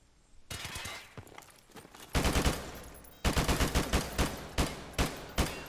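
Gunfire in Call of Duty Modern Warfare Remastered comes as close rapid bursts of automatic shots from a silenced Scorpion, an opening burst then a longer volley followed by evenly spaced single shots.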